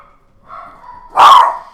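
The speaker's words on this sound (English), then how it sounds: "Oh, the dogs are excited." Dogs in a video game give an excited bark after a faint whine, one loud close yelp-like bark standing out alone against near silence.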